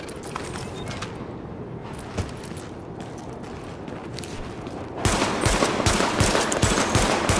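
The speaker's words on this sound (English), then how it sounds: "Open fire at the highlighted targets." Firearm shots at highlighted targets in The Division video game ring out as sharp, repeated reports over a mechanical background, then turn into a louder, faster burst of rapid fire in the final seconds.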